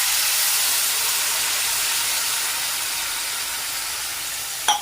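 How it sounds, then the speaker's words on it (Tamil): A pot of tamarind water bubbles and hisses steadily at a boil, a broad sizzling rush that continues throughout, ending with a brief clink. "இப்போ இது நல்லா கொதிக்குது"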